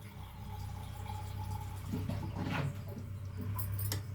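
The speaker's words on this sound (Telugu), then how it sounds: "ఇప్పుడు వాటర్ అనేది నేను కొంచెం యాడ్ చేస్తున్నాను" Water splashes and trickles into a pot in an unbroken pour, with a low steady hum behind it and a few clinks near the end.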